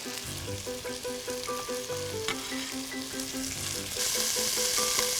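Onion, carrot and mushrooms frying in butter with seared chicken over medium-high heat, a continuous loud sizzle with occasional stirring clatter and a brighter hiss toward the end.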